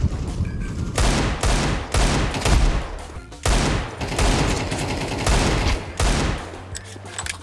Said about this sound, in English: this guy is shooting at me through the smoke as well